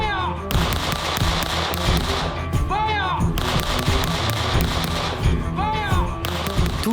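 Revolver and M1900 pistol fired in a shooting test, with several sharp close reports spaced irregularly across the stretch, each followed by a brief ringing tail over a busy background.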